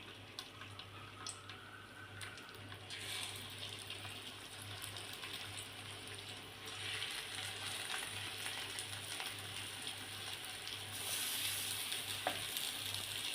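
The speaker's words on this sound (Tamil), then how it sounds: "எண்ணெய் சூடாகிடுச்சு இப்போ நம்ம ரெடி பண்ணி வச்சுருந்ததை ஒவ்வொன்றா அதில் வச்சிடலாம்" Wheat flour snacks fry in hot oil in a kadai, a continuous crackling sizzle that swells louder partway through, heard up close with no talking.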